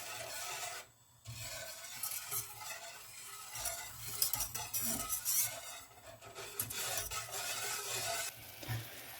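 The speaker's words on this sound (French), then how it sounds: "on prend un fouet, on mélange" A whisk stirs and scrapes through a mixture in a bowl, gently blending a caramel and chocolate cake batter, a steady close rasping with a short pause near the start.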